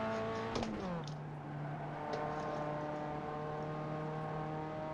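A quiet, steady American race car engine drone in iRacing holds a constant pitch after a quick downshift-like drop early on, humming without pause.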